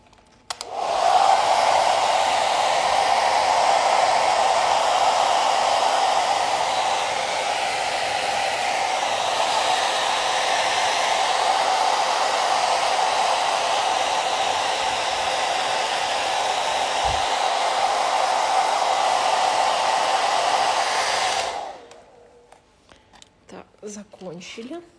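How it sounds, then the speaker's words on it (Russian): An ordinary handheld hair dryer blows steadily and loudly for about twenty seconds while Texton nail gel dries, then shuts off and leaves quiet handling noises. "текстон классно высыхает, если мы используем фен самый обычный"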